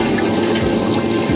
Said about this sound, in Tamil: அதனால கிரைண்டரில் ஃபஸ்ட்டு 1 டம்ளர் தண்ணி ஊற்றிக்கோங்க.